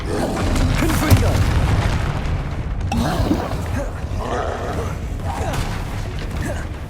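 Explosive Confringo spell blasts in the video game Hogwarts Legacy, heavy booming impacts with rumbling low end and crackling debris, several bursts following one another amid busy combat sounds and occasional vocal grunts.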